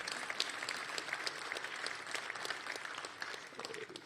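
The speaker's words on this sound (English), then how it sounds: "we can clap for that." Crowd at a community walk for crime victims' rights applauding: continuous, dense clapping from many hands, somewhat distant and even in level for several seconds.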